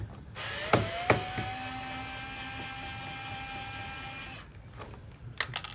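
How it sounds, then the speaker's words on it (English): Long-extension screwdriver backing out silver screws: a couple of sharp clicks, then a steady whirring drive with a thin pitched whine for several seconds, stopping abruptly and followed by faint ticks, close and alone. "I'm going to pull out all of these silver screws."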